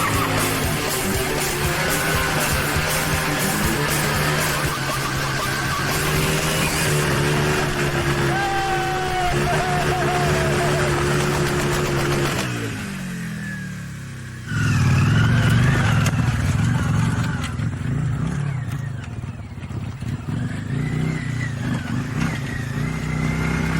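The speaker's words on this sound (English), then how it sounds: "I bet you've never seen a Virago do a burnout, have you?" A Yamaha Virago motorcycle does a burnout, its engine roaring steadily near and loud for about twelve seconds, then briefly dropping away before revving hard again with scrabbling, tyre-squealing noise.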